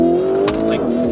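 A Lamborghini accelerates with a loud, close, rising engine note that sweeps upward in pitch over about a second.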